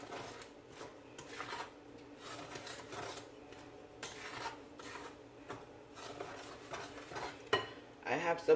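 A spoon scraping and stirring through Jamaican toto coconut cake batter in a bowl, a steady rhythmic rasping that repeats closely and quietly, with occasional clinks against the bowl near the end.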